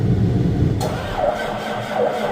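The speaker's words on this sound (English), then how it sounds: "you gonna start today, tractor?" A tractor engine turns over and settles into a steady low diesel rumble, with a sharp mechanical catch near the start and no talking.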